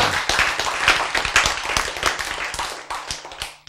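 Audience in a lecture hall claps together, a dense patter of hand claps starting at once and carrying steadily to the end, with no voices over it.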